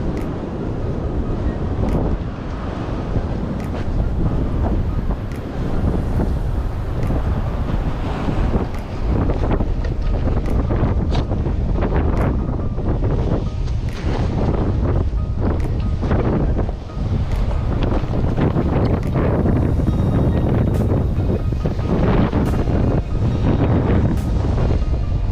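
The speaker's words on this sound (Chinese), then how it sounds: "起大风非常影响抛投，铁板很难下沉。" Strong wind buffets the microphone on the seashore during shore jigging with metal jigs, a loud, continuous roar with gusty surges and faint surf and water beneath, steady for the whole stretch with no talking.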